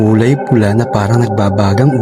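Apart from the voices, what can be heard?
No everyday noise stands out behind the speech.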